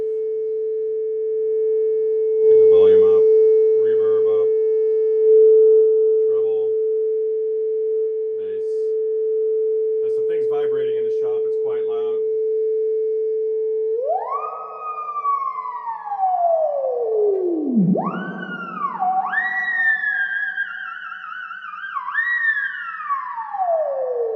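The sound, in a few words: 400 Hz test tone, about 500 millivolts, through a Vox AC30S1 amp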